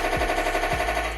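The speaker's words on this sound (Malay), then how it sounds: "dengan juga dia ada machine gun sound lah" Electronic machine gun sound effect from a Heng Long German Panther RC tank, a steady buzzing burst with two low thumps, brief and fairly loud with no talking.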